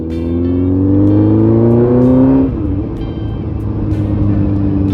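A Honda CBF600S motorcycle engine climbs steadily in pitch as it accelerates toward top speed, then drops sharply at a gear change and begins building again, loud and close with rushing wind.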